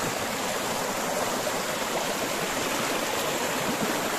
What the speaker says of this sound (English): The water is so fast and so cold.